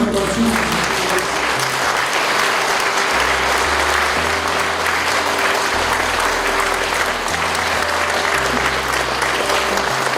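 Steady, dense applause runs throughout at a strong, even level, with low tones from a sustained background beneath it, apparently at a Korean memorial or funeral gathering.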